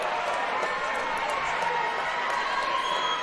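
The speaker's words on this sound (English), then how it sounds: "See the crowd over at St. Charles North getting her going over there." A crowd cheers and shouts from the stands at a girls' swimming state finals, a steady broad roar of voices urging a swimmer on, heard from a distance under faint commentary.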